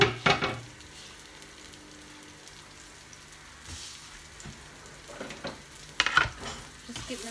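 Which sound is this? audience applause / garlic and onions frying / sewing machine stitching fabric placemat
garlic and onions frying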